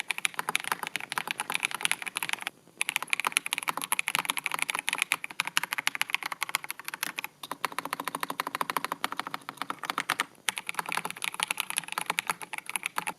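Steady, fast typing on a Skyloong GK104 Pro mechanical keyboard, dense close-up key clicks and clacks in continuous bursts with a few brief pauses, fairly quiet overall and no voices.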